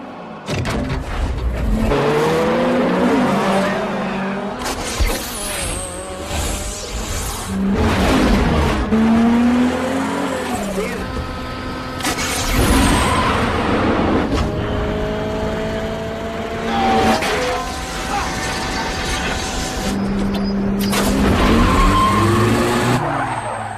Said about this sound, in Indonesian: Hector memberitahu kalau polisi akan datang beberapa saat lagi dan balapan pun dimulai